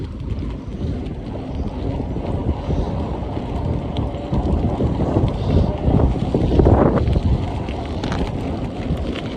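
Steady wind roars and buffets across a microphone during a long bike ride, a continuous broadband rush with gusts swelling louder near the middle, no voices.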